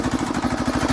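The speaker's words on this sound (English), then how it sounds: "Lovely old compressor this." An old air compressor driven by a Lister Petter diesel engine chugs loudly and close in a fast, even pulsing rhythm, with no voices.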